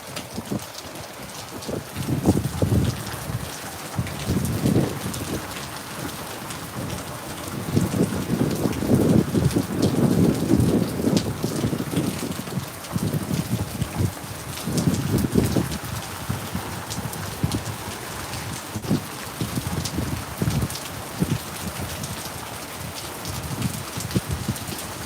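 Heavy rain pours steadily during a night thunderstorm, a dense, continuous wash of drops that swells louder for several seconds in the middle before easing back, with no voices.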